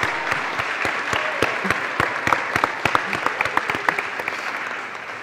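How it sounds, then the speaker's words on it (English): A church congregation at a Trinity Sunday worship service claps to welcome a newly baptized boy named Sebastian, with sustained, moderately loud applause and distinct individual claps throughout, and a few faint voices beneath. "Let's receive him today with applause."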